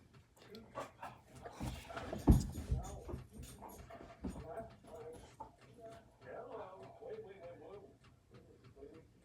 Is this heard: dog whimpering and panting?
yes